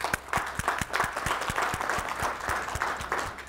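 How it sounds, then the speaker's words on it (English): A conference audience at a safety event claps together, a few close, sharp claps standing out in a steady rhythm over a broader wash of applause. "I want a clap of hands to that"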